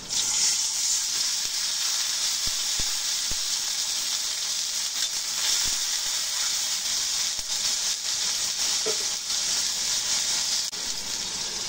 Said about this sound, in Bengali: এখন দিয়ে দিচ্ছি সামান্য পরিমাণ পানি